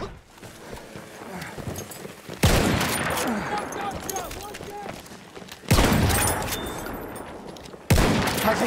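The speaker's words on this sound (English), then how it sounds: "Feindliches MG da drüben!" Enemy machine gun fire in the video game Battlefield 1 rattles in sustained bursts, each starting with a sharp loud onset, repeating three times against busy battlefield background noise.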